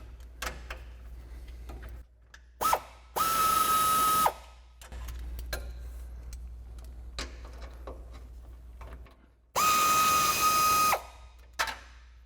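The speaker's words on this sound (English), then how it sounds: "So we're using that same 12 millimeter socket again to pull these out." A ratchet with a 12 mm socket removing brake line bolts on a 2022-2024 Toyota Tundra during a suspension lift install, with quick clicking ratchet strokes and two loud sustained whirring bursts of a powered tool between them.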